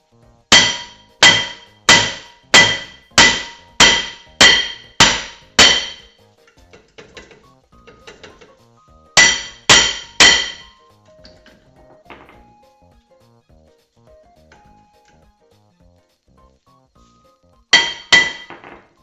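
Repeated loud metallic hammer blows on a stuck brake rotor on a car, a rapid run of about eight strikes, then three more after a pause and a final cluster, with faint clinks between.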